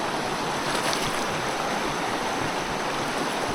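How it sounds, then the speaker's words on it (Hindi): Clear stream water babbling steadily outdoors near a hermit's retreat, a continuous broadband wash of flowing water with no pauses, fairly loud and close. "ये देखते हैं कल कल की आवाज़"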